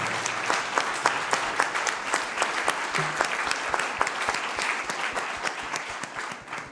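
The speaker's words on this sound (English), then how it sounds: "Please join me in giving a round of applause to all of our panelists." Conference audience applauding panelists, steady dense clapping with sharp individual claps standing out, continuous and even throughout.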